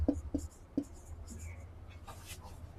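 Writing by hand, with a few brief scratchy strokes near the start followed by quieter scribbling, under a low voice.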